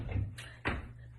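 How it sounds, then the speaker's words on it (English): A door closing indoors, a soft thud followed by a sharper latching knock, fairly quiet with faint background hum. "let me close this door"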